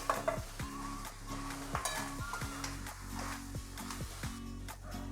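Mashed potato being stirred into spiced masala in a pan for aloo paratha filling, with repeated scraping stirs of a spoon against the pan over a light sizzle, close and steady, no talking.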